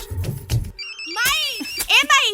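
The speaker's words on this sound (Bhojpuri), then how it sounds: "माई, बाबूजी के फोन।" A telephone rings in a home with a brief burst of electronic ringing tones, set between stretches of nearby conversation.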